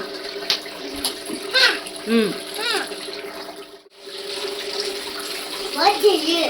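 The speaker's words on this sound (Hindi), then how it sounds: "धो, पानी में अच्छा धो।" Tap water runs into a home sink while toothbrushes are rinsed under it, a steady close hiss with a child's and adults' voices talking over it throughout.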